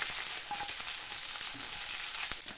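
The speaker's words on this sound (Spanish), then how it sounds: "Es momento de dorar nuestros 4 dientes de ajo bien picados." Minced garlic, four cloves, browns in butter in a frying pan, giving a steady close sizzle with small pops and crackles throughout and no voices.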